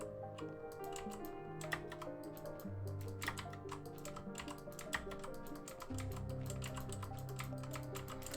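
A mechanical keyboard clicks away in rapid, uneven bursts of keystrokes during a Minecraft survival session, close and quiet, with a low background hum and no speech.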